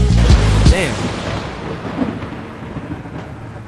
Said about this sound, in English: I love even the lightning crashing at the end of that.